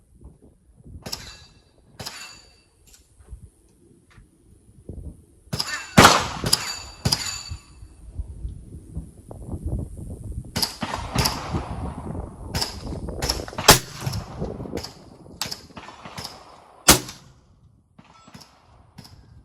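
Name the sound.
rifle shots ringing steel targets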